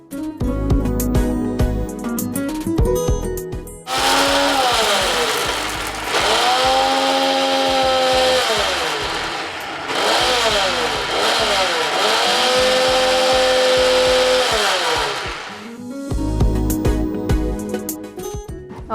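A kitchen mixer grinder grinding roasted peanuts into powder, a loud whining motor that starts abruptly, pitch rising and falling as the blades load and free up across two long bursts, with quieter clatter before and after.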